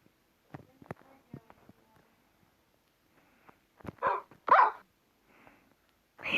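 A few video game dogs bark and yip in short, scattered bursts, mostly faint with a couple of louder barks near the end.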